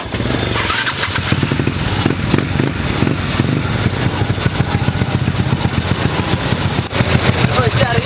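A motorcycle engine runs close by with a rapid, pulsing idle and some revving, its loud throb continuing throughout, while people talk over it.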